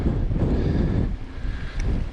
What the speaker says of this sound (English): It's gusting. It's supposed to get up to like 20 knots today.